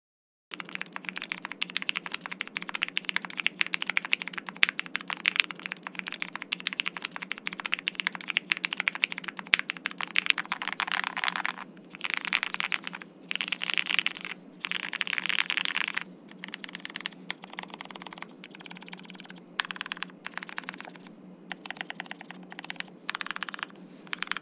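Custom ergonomic mechanical keyboard being typed on continuously, a close, dense patter of clacky keystrokes with brief pauses and bursts, fairly quiet overall and with no talking.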